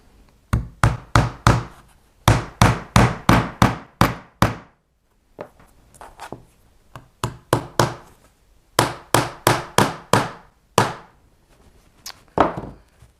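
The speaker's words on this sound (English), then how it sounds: "We're going to put some brads in. I'm not going to nail it all the way down." Hammer driving small brads partway into wood for a doorstop, bursts of quick, sharp knocking blows in clustered runs with brief pauses between them, close and solid, with no talking.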